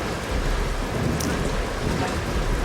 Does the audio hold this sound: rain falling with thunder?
yes